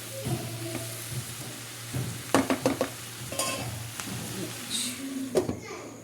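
Okra being stirred in a pan on a stove, with faint sizzling and a handful of clinks and scrapes of a spoon against metal, soft and close.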